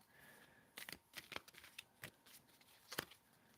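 A tarot card deck is shuffled by hand in a quiet room, a run of crisp riffling snaps and soft card slaps in uneven bursts, close and alone.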